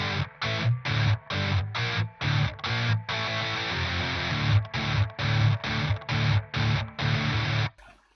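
Dual-tracked Shreddish 2X guitar, hard panned left and right without matching EQ, plays loud distorted chugging chords in a choppy stop-start rhythm with a sustained stretch midway, alone and up close.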